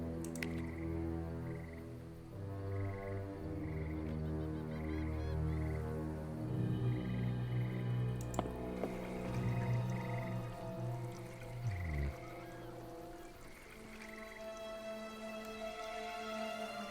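A frog croaks repeatedly in a video game over a layered ambient musical backdrop, the calls soft and rhythmic, fading near the end.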